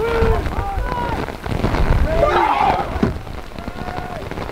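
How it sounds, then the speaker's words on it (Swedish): Heavy rain pours down on a football pitch during a youth match, a dense steady wash of noise with shouting voices and whistles over it. "för regnet öste ner och det var kaos"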